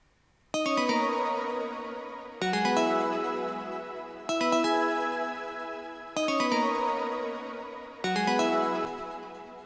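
House music melody made of stacked synth chords in FL Studio, five loud sustained chord stabs each fading over about two seconds, played alone with no voices.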